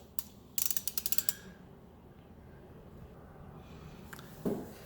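A ratchet wrench clicks sharply through a quick burst of pawl ticks while loose bolts are broken free on a BMW S1000RR sprocket, followed by quiet and a later metallic clunk, close and with no talk.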